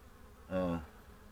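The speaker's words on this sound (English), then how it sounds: "these bees here are really talking." Honey bees from a swarm at the hives, one brief, quiet buzz that swells and fades within a fraction of a second against a low background.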